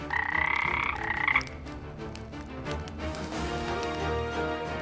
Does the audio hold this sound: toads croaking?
yes